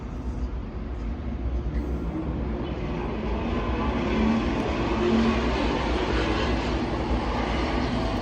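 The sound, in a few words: loud car passing on a street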